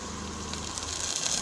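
Garlic and chopped tomatoes sauté in a pan for garlic dosa, a soft, steady sizzle and hiss with no talking over it.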